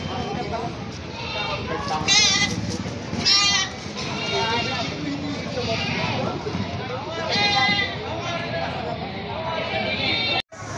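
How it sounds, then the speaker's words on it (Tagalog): Many goats bleat repeatedly over a busy crowd murmur at a livestock auction market in Padre Garcia, with overlapping calls near and far amid people talking. "Ito ang kaganapan dito sa kambingan."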